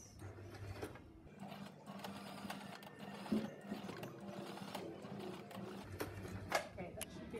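Domestic sewing machine stitching elastic back and forth while making a scrunchie, a steady motor whir running throughout, with brief pauses and a few mechanical clunks as direction changes, and a person talking over it.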